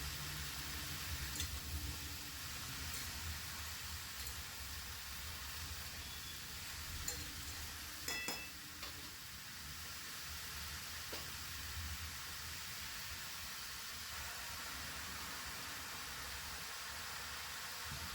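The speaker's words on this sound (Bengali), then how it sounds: "পুরো লাউটা দিয়ে আর একটু ভালো করে নাড়াচাড়া করে নেব।" Bottle gourd frying in a pan, a steady soft sizzle with quiet occasional scraping as the pieces are stirred, fairly faint and continuous throughout.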